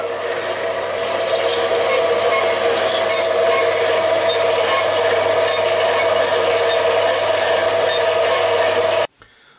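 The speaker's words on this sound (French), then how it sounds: "L'étape suivante, c'est la découpe des supports en laiton." Brass supports for an HO-scale model railway level crossing being sawn by hand, a steady, close, continuous rasping cut lasting about nine seconds before stopping abruptly.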